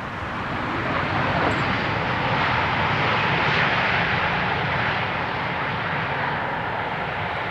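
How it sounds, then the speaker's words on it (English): A fixed-wing airliner lands at Amsterdam Schiphol Airport, a broad, loud, steady engine roar and rushing air that swells slightly in the middle and holds without talk. "Airplanes are always quieter when they land than when they take off"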